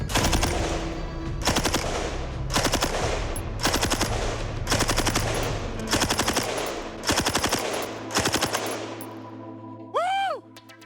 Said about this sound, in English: I just fired 45 rounds from the M60.